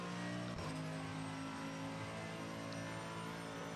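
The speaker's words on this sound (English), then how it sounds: "Let me raise the sound a little bit so I can hear what the car is doing and what it's telling me." Race car engine in a racing video game, a steady high-pitched drone held throughout with a brief dip in pitch near the start, loud and continuous with no talk.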